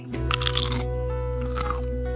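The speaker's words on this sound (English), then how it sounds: "What is that chewing sound?" Crunchy chewing in the video game Pixel Piracy, two bursts of crisp crunching bites over a steady low game hum, close and clear with no talk.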